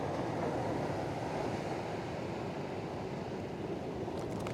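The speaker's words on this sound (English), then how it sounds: "There's a lot of power in these waves, especially with the incoming tide." Powerful ocean waves dumping on a beach shore at incoming tide, a loud, continuous roaring wash of surf with rumbling low body and no talking.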